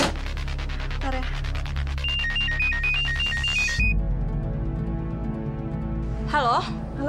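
A telephone rings with a repeating electronic ringtone over dramatic background music and ambient sound in a TV drama scene, then cuts off, leaving the music playing.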